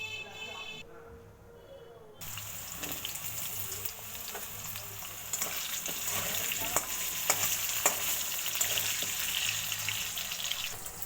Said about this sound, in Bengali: এবার ওই একই তেলে কেটে রাখা আলুগুলো আমি ভেজে নেব।